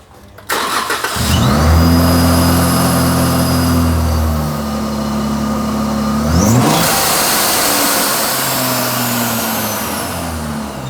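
A Jeep Wrangler JKU fitted with a Ripp supercharger cranks and fires up, its engine holding a loud steady idle, then revving up and settling back before a second rev, close and continuous with no talk.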